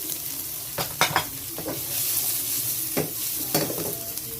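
Tomato and onion sautéing in a hot pan for ampalaya guisado. A steady sizzle runs throughout, with several sharp scraping stirs from a spatula and no talking.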